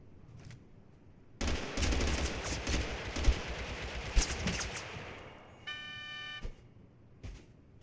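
Assault rifle fire in Totally Accurate Battlegrounds: a loud, sustained automatic burst of rapid shots lasting about four seconds, then a brief tonal horn-like sound and a few scattered later hits.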